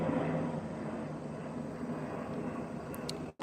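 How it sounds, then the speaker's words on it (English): A possible UPS cargo plane passes overhead near an airport, its steady broadband engine roar filling the clip before dropping out briefly near the end. "there's an airplane up there"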